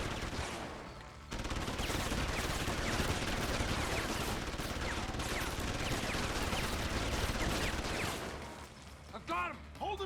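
Enemies trade sustained gunfire with each other in Deus Ex: Human Revolution, rattling bursts and volleys that run steadily at moderate distance, thinning out near the end.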